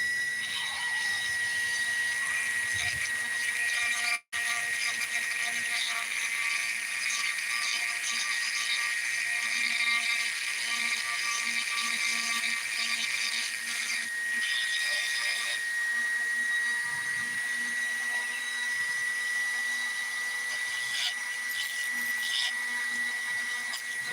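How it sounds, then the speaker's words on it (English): A Dremel rotary tool on a flex shaft grinds into agate with a continuous high-pitched whine, loud and steady throughout apart from one brief dropout near the start. "But I really love using the flex shaft."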